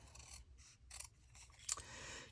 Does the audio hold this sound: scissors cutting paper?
yes